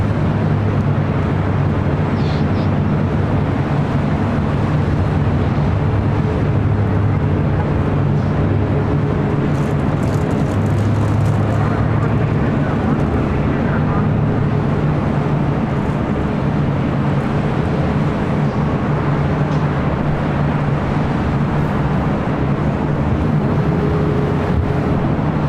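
Airliners taxiing at LAX, including a Lufthansa Boeing 747: a steady, loud jet-engine roar and rumble running throughout, mixed with wind buffeting the microphone, with no talking.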